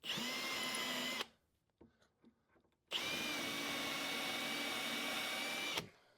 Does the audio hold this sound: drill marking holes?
yes